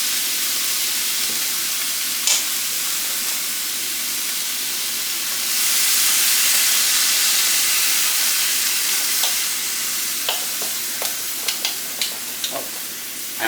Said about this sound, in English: We're going to go ahead and add a little bit of this beef broth.